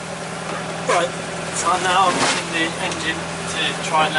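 A sailboat's inboard engine runs steadily at idle during an Atlantic crossing to burn down fuel in one tank, a low continuous drone with water sloshing and a person talking over it.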